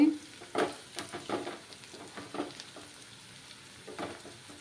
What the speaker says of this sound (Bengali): রসুনের কাঁচা গন্ধ না যাওয়া অবধি আমি একটু ভেজে নেব।